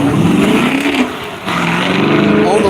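A Porsche race car pulls away down the track at a raceway, its engine rising steadily in pitch as it accelerates, loud and close, with a commentator talking over it.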